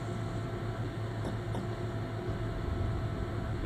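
A loud fan runs steadily in the background with a constant broadband whoosh and a low hum, unchanging throughout, broken only by two faint clicks.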